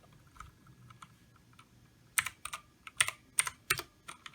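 Typing on an E-Element Z-88 104-key keyboard. Soft, scattered keystrokes give way to a cluster of sharper, louder clicks near the end, close up and with no voices.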